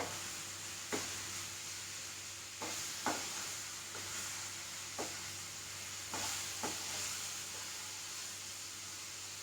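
Steady sizzling of ripe nendran plantain frying in ghee, broken by about half a dozen scraping stirs at uneven intervals, close and fairly quiet.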